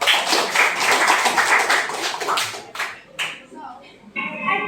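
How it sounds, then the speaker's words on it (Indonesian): Classroom applause for a student, a dense burst of clapping from a group that thins out after a few seconds into scattered claps, with some voices mixed in. "Once again, give applause sekali nak"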